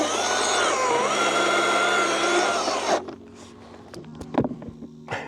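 A Greenworks chainsaw runs at a loud, steady whine as it cuts through wood for about three seconds, then stops abruptly, leaving quieter scattered knocks and clatter.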